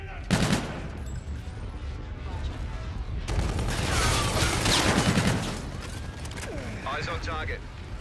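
Video game gunfire with clattering weapon mechanisms, bursts of shots and rattling mixed with radio-style voices and whooshing effects, loud and busy throughout.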